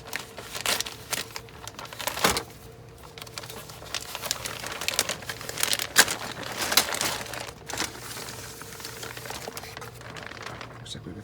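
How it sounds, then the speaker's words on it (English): Thick, heavy plastic packaging from an Airfix 1:48 English Electric Lightning model kit crinkles and rustles as it is cut open and handled, close and continuous with sharp snips and crackles. "Cut open this plastic."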